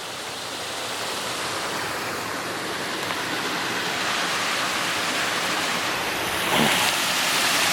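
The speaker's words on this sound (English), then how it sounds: "The old spillway." Higher river water pours over an old spillway on the Ashaway River, making a steady, dense rushing roar that fills the whole stretch without pause. A brief splash or gust rises near the end.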